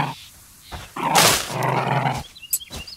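Companion dog in the survival game Dysmantle growling and barking, a couple of short harsh bursts and yips close up, alone without talk.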